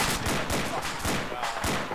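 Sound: machine gun fire in video game Insurgency

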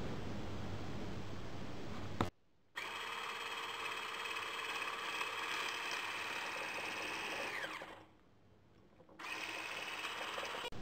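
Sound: mixer beating sugar and eggs at top speed

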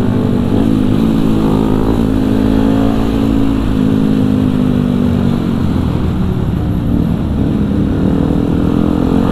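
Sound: group of supermoto motorcycles riding

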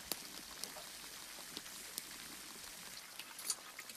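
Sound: dumplings deep frying in oil

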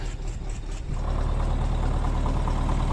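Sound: tractor engine idling after winter cold start

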